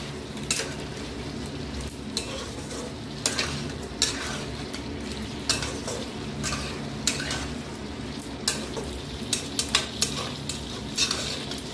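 A spoon stirs potato and cauliflower curry with chopped tomato in a pan, a series of scraping strokes and sharp metallic knocks over a soft, continuous frying sizzle, with no voices.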